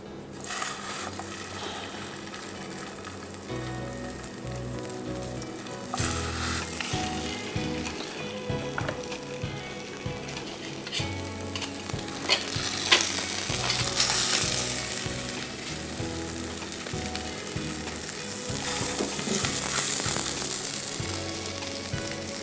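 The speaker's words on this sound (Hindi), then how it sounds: "बटर और ऑयल 1 टेबल स्पून लेना है, और उसमें आपको पैटी आपके फ्राई करने हैं" Small keema patties frying in a tablespoon of butter and oil, a dense continuous sizzle with spatula scrapes and bursts of spitting fat, swelling louder toward the end.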